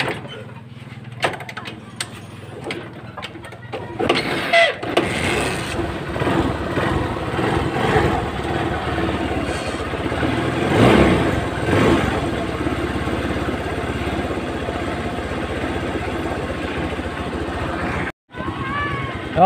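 A Honda Supremo motorcycle engine starts with a few clattering bursts, then settles into a loud, steady close-up running drone that continues for most of the clip before cutting out briefly near the end.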